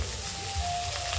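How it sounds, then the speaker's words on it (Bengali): Chopped onion and crushed garlic frying in oil, a soft steady sizzle with fine crackle throughout, close and fairly quiet, with no talking. "পেঁয়াজ কুচি, রসুন থেতো করে এগুলো এবার লাল লাল করে ভেজে নেব"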